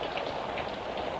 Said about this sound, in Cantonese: 外邊又落大雨